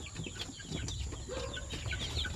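Basilan native chicks peeping in bright, scattered chirps over a steady low rumble, close by and continuous throughout.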